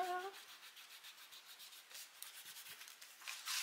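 An eraser rubs back and forth across paper on a scrapbook album page, giving a quick run of soft, close scrubbing strokes that ends with a louder final rub.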